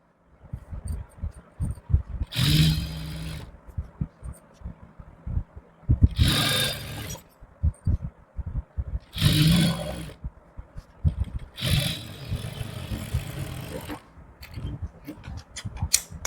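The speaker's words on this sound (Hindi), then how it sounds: "सेम तरीके से दूसरी साइड की सिलाई लगा देंगे।" A sewing machine stitching the second side of a salwar hem, heard as four separate close whirring runs of about a second each, with quieter clicks and handling noise between them.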